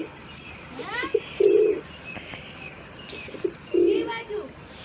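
Pigeons coo at close range in two short bursts with soft throaty calls, a brief wing flap between them, over a quiet background.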